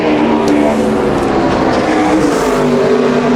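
NASCAR Nationwide Series race car engine on a qualifying lap at Bristol Motor Speedway in 2010, a loud continuous high-revving roar with steady droning tone and no talk over it.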